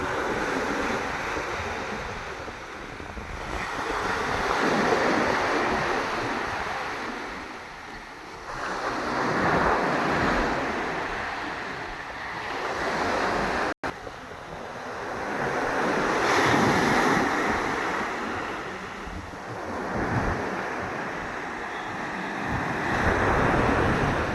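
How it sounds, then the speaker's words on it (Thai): Sea waves roll and break on a sandy beach in steady swells, loud and close, with gusty wind buffeting the microphone throughout and no voices. "คลื่นสวยๆดังนั้นเลยนะครับ"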